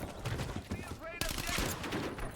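Javek gun fire in Black Ops 7 gameplay: rapid bursts of gunshots crackle over busy game noise, with a voice talking over part of it.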